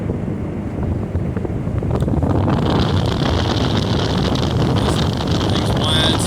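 A 2022 Tracker 195 Tournament Edition bass boat with a Mercury 150 Pro XS outboard runs across open water, its steady engine drone buried under loud wind buffeting and water rush.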